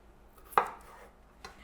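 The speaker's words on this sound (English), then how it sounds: "These are quite big, so I'm just going to cut them into half" A knife slices through a large purple potato on a cutting board: one crisp, close chop followed by a fainter tap a moment later.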